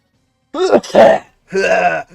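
An older man's cough-like vocal bursts, two rough voiced outbursts close to the microphone, with a short pause between them.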